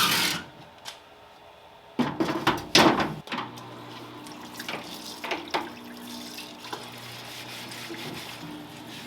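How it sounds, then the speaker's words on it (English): A Harbor Freight parts washer runs degreaser over a rusty FMF exhaust pipe from a CR500 dirt bike, with bursts of splashing liquid, some clunks of metal handling and a low pump hum. "so let's throw this thing in the parts washer."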